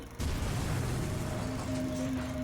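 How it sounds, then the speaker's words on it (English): An explosion sound effect for a section of the South Manchurian Railway being blown up outside Mukden: a sudden heavy boom followed by a sustained loud, dense rumble with a faint tonal ring, alone. "an explosion destroys a section of the Japanese-controlled South Manchurian Railway."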